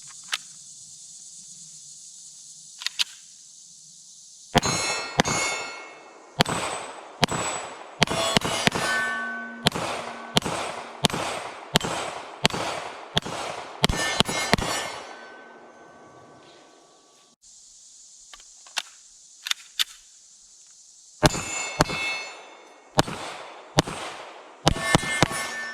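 Sig P320 M17 pistol shots fire at steel targets about 7 yards away, sharp loud reports each followed by a bright metallic ring, coming in quick irregular strings with pauses between volleys.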